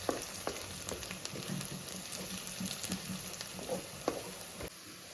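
Chopped green chilies fry in oil for a Telugu-style fish curry. The sizzle is faint and steady, broken by light spatters and soft stirring taps, with no talking.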